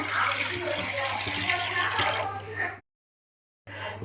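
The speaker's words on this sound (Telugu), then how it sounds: "ఇప్పుడు ప్యాన్ పెట్టుకొని ఇందులో వాటర్ వేసుకొని" Water is poured into a cooking pan in a close, continuous rushing splash for almost three seconds, then cuts to silence before a low hum and faint splashing return.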